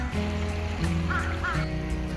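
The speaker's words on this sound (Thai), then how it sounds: "ทุกคนเห็นได้ไหมครับลูกเป็ดก็น่ารักมากๆครับ" Ducks quack outdoors by water in Korea, with a few short nasal calls close by over steady background noise.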